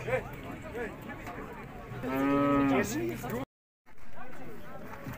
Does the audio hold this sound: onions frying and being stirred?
no